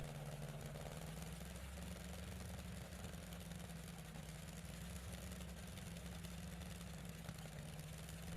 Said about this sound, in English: Seeing a Griffin Mk58 run today is rare, and witnessing one start with contra-rotating propellers engaged offers a powerful reminder of the peak of piston engine aviation technology